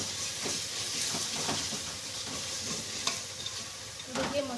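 Masala for an aloo gobi sabzi frying in a pan with steady sizzle and hiss while being stirred, with occasional scraping clinks of the spoon, close and continuous with no talk.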